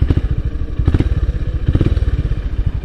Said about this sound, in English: thanks to that air-cooled engine, listen to this.